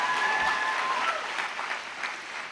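Applause from an audience at a college commencement: dense, loud clapping with some cheering, steady throughout and slowly easing off.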